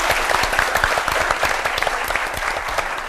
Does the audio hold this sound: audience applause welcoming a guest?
yes